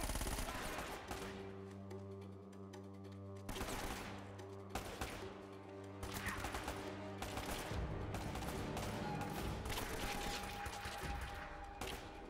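Bursts of gunfire from the Uncharted video game, mixed with steady music and game effects, at moderate level throughout with no talking.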